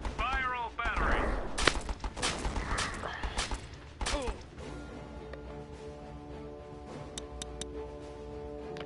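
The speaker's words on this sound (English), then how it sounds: "Fire all batteries." All batteries fire in Battle Island Commanders, a rapid clatter of gunfire and blasts packed into the first few seconds, then settling into ticking mechanical sounds and lighter sporadic shots under a steady game backdrop.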